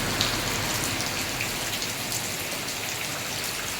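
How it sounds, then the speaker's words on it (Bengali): Steady rain falling in Malaysia after a spell of heavy heat, a dense even hiss of drops hitting surfaces close by, continuous and unbroken with no voices. "মালয়েশিয়ার বৃষ্টি"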